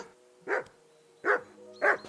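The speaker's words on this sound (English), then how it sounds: "What's this dog doing?" A dog barks three times in the video game Kingdom Come: Deliverance 2, sharp, close barks spaced unevenly over a quiet background.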